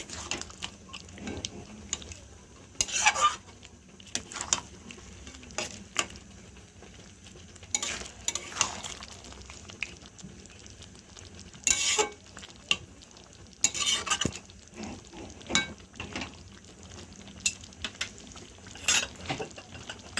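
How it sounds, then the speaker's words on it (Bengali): Chicken being stirred with cashew paste in a pan, repeated scraping strokes of a utensil in irregular bursts over a faint sizzle, close and alone without talk. "কাজু বাটাটা দিয়ে আমি এবার ভালো করে এটাকে একটু নেড়ে নেব, মিক্স করে নেব।"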